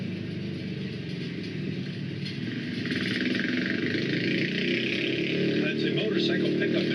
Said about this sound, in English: That's a motorcycle pickup in front of us.